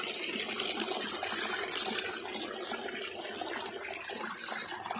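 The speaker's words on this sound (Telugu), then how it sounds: "ఈ వాటర్ ఫాల్ చూడండి ఎలా ఉంది." Rushing water from a forest waterfall fed by small streams, a steady broadband roar that stays loud and continuous throughout with no voices.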